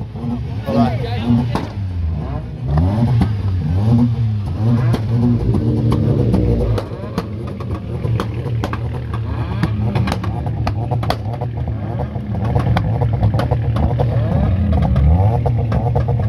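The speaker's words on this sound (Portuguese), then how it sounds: "esse barulho que vocês estão escutando é o Lancer" A Mitsubishi Lancer race car engine revs and drones loudly nearby, rising and falling, while people talk over it.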